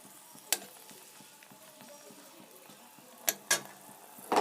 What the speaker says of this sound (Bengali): এখন তেজপাতা দিয়ে দিন আর একটা শুকনো লঙ্কা